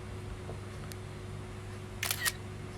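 An iPhone camera shutter firing in Instagram with silent mode turned off gives two quick, crisp clicks close together, moderately loud against a quiet, faintly humming room.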